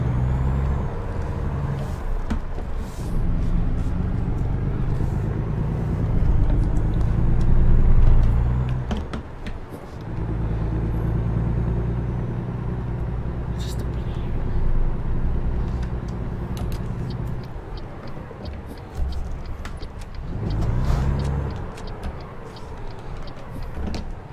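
A big rig in American Truck Simulator rumbles with a steady low engine drone, the pitch swelling and dropping through gear changes, with faint clicks and ticks over the top and no talking.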